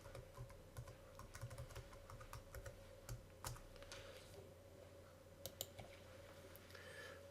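Login credentials are typed on a computer keyboard, a steady run of close, light key clicks over a faint electrical hum, with no speech.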